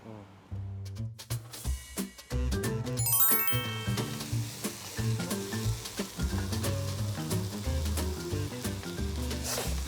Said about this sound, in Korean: 양파 당근 대파 넣고 식용 넣고 볶아주는 거야